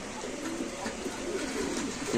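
Pakistani Giribaz pigeons cooing softly in a low, continuous murmur, several birds overlapping at close range with faint background noise.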